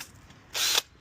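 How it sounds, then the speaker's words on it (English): A power drill fitted with a brass wire brush spins briefly inside the threads of a Nissan Stagea rear brake caliper, a short whirring burst of about a quarter second amid quiet workshop background. "as I spin the drill, it kind of goes forward"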